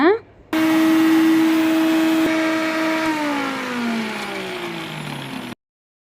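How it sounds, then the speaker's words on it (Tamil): A mixer grinder grinding hibiscus flowers whirs loudly with a steady high motor whine, then the pitch slides down as it slows before stopping abruptly. "செம்பருத்தி பூவை மட்டும் அப்படியே கையிலேயே எடுத்து ஒரு மிக்ஸி ஜாரில் சேர்த்து நல்லா நைஸாக அரைச்சிக்கோங்க"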